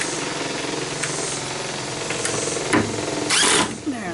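A screw is driven into wood with a power driver while closing in a porch, a close, buzzing motor whir with a few harder bursts, and a voice briefly in the background.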